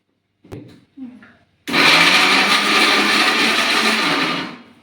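A kitchen mixer grinder whirs loudly and steadily for about three seconds after a couple of short spoken bits, then winds down.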